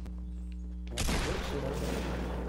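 Gunfire in the video game Fortnite erupts after a second of quieter play, becoming a loud, dense fusillade of shots that keeps going to the end.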